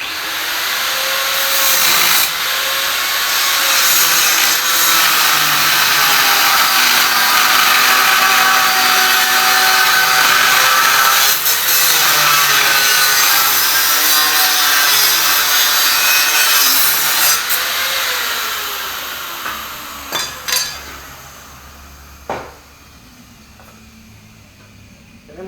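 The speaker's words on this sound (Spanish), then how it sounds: "Ahora lo que vamos a hacer con el molador del disco de corte es tratar de cortar lo más derecho posible" An angle grinder fitted with a cutting disc slices through a steel plow disc, a loud, steady whine with rising and falling pitch as the cut proceeds for about twenty seconds, then stopping into a few clanks and scrapes.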